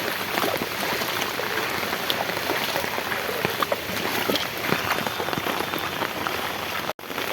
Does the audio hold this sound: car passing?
no